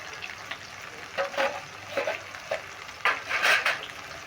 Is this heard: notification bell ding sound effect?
no